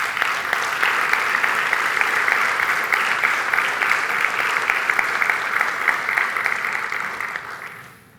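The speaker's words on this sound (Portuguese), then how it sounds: "Para todos aqueles que organizaram o Congresso, peço uma salva de palmas por Congresso." A congress closing-session audience breaks into sustained, dense applause for about seven seconds before it fades out.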